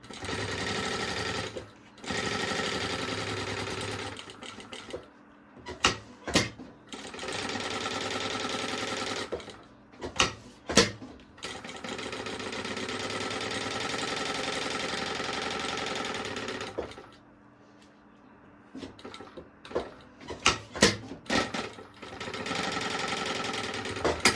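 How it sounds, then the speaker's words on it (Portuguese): Sewing machine stitching a seam on a baby organizer, long steady runs of fast motor hum and needle rattle broken by pauses with clicks and handling noises, close and clear. "Agora, eu vou passar uma costurinha aqui pra fixar esse material."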